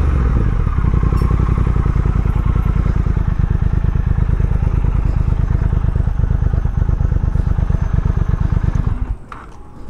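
A Triumph Speed Twin motorcycle engine rumbles loud and close with a steady, rapid pulsing beat while riding on the road, then cuts away abruptly near the end.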